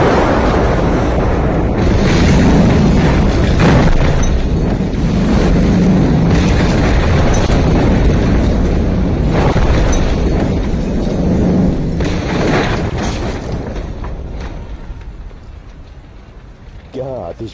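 Army land mine explosion in a Hindi-dubbed bank robbery action movie, a heavy sustained rumbling blast with roaring low-end debris noise that runs long and gradually dies away.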